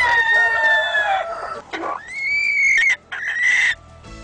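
Fancy ornamental chickens crow and cluck close by, loud drawn-out rooster calls with rising and falling pitch, broken by short gaps and clucks, with no talking.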